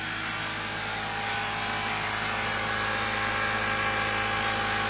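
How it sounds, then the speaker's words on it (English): A small portable tire inflator compressor runs steadily beside a 2021 Mustang Mach 1, a constant close mechanical whine and buzz with no breaks. "it's a small compressor, so it's going to take a few minutes"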